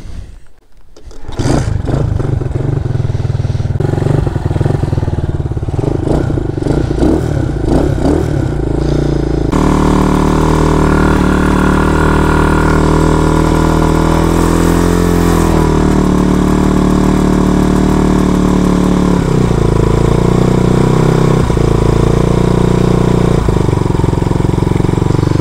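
An RPS Condor 150cc motorcycle engine fitted with a new 26 mm carburetor and filter starts and then runs steadily for a long stretch, loud and close, with the revs rising and falling slightly as it is tuned.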